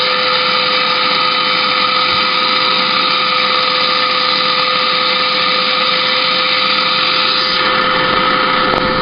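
A Hoover vacuum cleaner runs in a loud, constant whine with a steady motor hum for about nine seconds, close up and alone, without any talking.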